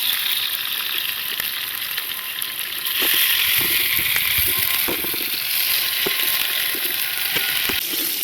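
Capsicum and onions fry in a wok with a steady, loud sizzle, broken by occasional scraping and stirring clicks, in a village-style Gobi Manchurian cooking setting. No voices are present.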